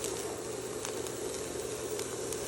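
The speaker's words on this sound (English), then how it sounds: "I'm going to saute them for 3 to 4 minutes" Finely diced green bell pepper sauteing in a pan for a lentil sloppy joe, giving a steady, even sizzle with soft crackles throughout, close and continuous with no talking.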